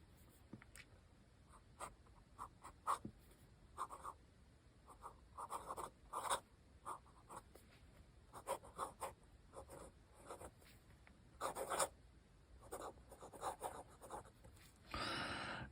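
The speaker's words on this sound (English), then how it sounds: "I do like to write with flex nibs when I am corresponding" A Scribo flex nib fountain pen scratches across paper in short, quiet strokes with pauses between words, close and intimate, ending with a brief rustle.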